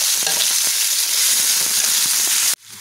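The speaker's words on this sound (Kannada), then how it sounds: "ಇದನ್ನು 1-2 ನಿಮಿಷ ಚೆನ್ನಾಗಿ ಆಯಿಲಲ್ಲೇ ಫ್ರೈ ಮಾಡ್ಕೊಳ್ಳೋಣ" Ground masala paste frying in oil in a home kitchen while making chenna masala gravy: a steady close sizzle with stirring scrapes, then it cuts off sharply near the end.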